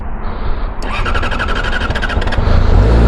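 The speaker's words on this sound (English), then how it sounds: "This is a fresh startup on a 2025 Yamaha R6" A 2025 Yamaha R6 sport motorcycle engine cranks and catches, sputtering into a loud, uneven idle that rises and steadies, close by with no talking.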